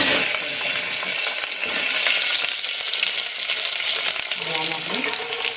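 Chopped green chilli, ginger, garlic, tomato and onion frying in oil for a cabbage kofta curry, a loud continuous sizzle with stirring clinks and a brief voice near the end.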